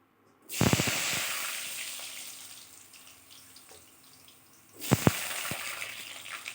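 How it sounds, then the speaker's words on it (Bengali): Potatoes dropped into hot oil for frying: a sudden loud sizzling hiss bursts up and slowly fades, then a second burst of spitting sizzle follows a few seconds later, close by. "এই তেলেতে প্রথমে সবার প্রথম আমি আলুটাকে ভেজে নেব"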